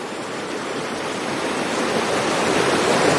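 Water of the Putim waterfall in São José dos Campos pouring into a deep pool on a river, a constant broad rushing roar that grows slightly louder, with faint birdsong above it.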